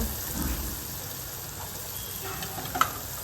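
Potatoes go into hot oil in a pan with peanuts for upma, a steady, hissing sizzle close by, with a small clink near the end and no talking.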